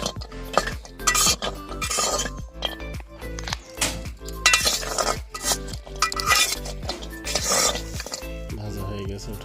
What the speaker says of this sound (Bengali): নাড়াচাড়া করে ভেজে নেব।